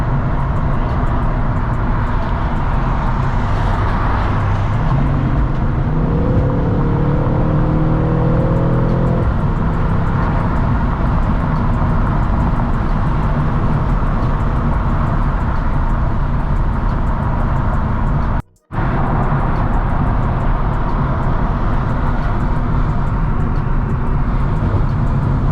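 Cabin view of a 2019 Mercedes C63-S AMG in Sport Plus mode, engine droning loudly and steadily with a rising pull and gear shift early on, continuous throughout.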